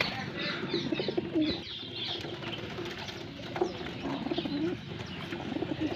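A pigeon coos softly and repeatedly at close range while it eats grain, with faint rustling and a few chirps around it.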